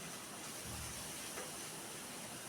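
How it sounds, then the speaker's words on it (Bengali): Spice paste with tomato sautéing for tangra fish gives a steady, even hiss of sizzling oil, faint and continuous with no distinct breaks. "সম্পূর্ণ মশলাটাকে এবার আমি একসঙ্গে কষিয়ে নেব"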